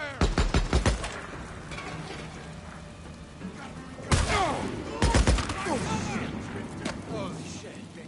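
Bursts of rapid gunfire in the video game Days Gone crackle in several volleys along railroad tracks, loud and sharp, with echoing impacts and ambient battle noise between the bursts.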